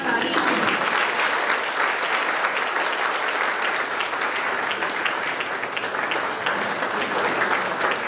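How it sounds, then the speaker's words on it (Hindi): An audience claps at the close of a formal program honoring the state governor. Steady, loud applause from many hands fills the full eight seconds without pause. "तालियां।"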